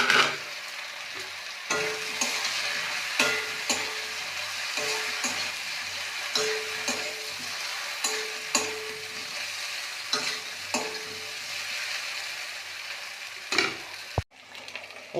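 Eggplant frying in a pan with ginger-cumin paste: a constant close sizzle punctuated by regular spatula scrapes and taps, with a sharp clack near the end.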